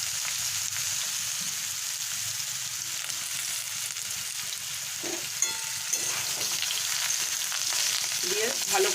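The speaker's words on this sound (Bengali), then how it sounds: "এবারে আমি ফুলকপিগুলোকে যে ভাপিয়ে রেখেছিলাম, আমি আলুটার সঙ্গে ভেজে নেব" Steamed cauliflower frying with potatoes in a pan gives a steady, even sizzle throughout, with a few soft stirring scrapes near the end and no talk.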